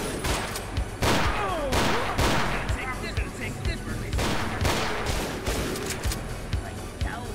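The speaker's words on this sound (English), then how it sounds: "Who the fuck is shooting at me?" Repeated gunfire from the post-apocalyptic video game Ashes 2063, bursts of shots and heavy fusillade cracking near and far over a continuous noisy backdrop, with a man reacting between volleys.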